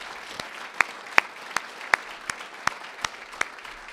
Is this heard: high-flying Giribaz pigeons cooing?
no